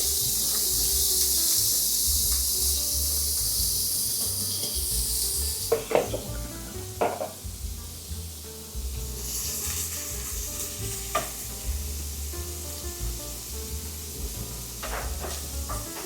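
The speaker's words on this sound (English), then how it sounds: "Okay, we're in with the prawns. Just drop them slowly like this." King prawns drop one by one into hot oil for garlic fried rice, each landing with a sharp spitting burst over a loud, continuous frying hiss, followed by sporadic clatters of the pan, no talking.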